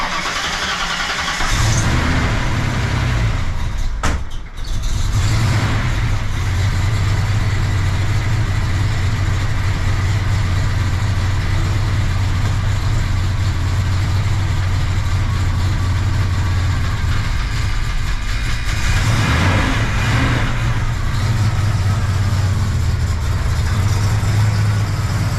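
A car engine fitted with 206cc TFS-R cylinder heads cranks and fires, then settles into a loud, close idle with a brief rev near the end, and no one speaks.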